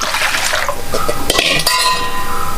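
Water pours steadily into rice batter in a vessel while neerunde, a traditional Mangalore rice sweet, is being made, a loud close splashing fill with a few light clinks of utensils.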